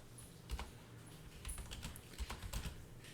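Quiet, close keystrokes on a computer keyboard as a Linux find command is entered, a short irregular burst of taps with a few louder clicks.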